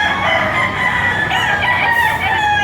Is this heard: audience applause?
no